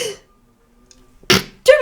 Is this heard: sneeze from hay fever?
yes